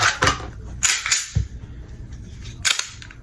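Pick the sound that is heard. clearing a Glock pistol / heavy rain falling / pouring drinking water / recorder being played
clearing a Glock pistol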